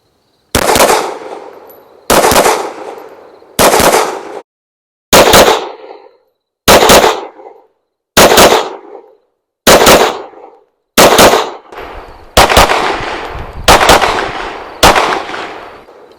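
Springfield Armory Echelon pistol fired in quick double-tap pairs at an outdoor range, about ten loud sharp reports in close succession with brief gaps, ringing off at the end.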